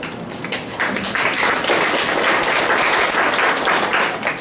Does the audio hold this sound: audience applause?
yes